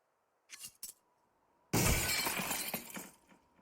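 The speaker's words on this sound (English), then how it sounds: "they hear the glass break" Glass shatters loudly in a Counter-Strike match on the Nuke map, a sudden bright crash with a trailing tinkle of falling shards, preceded by two short faint knocks.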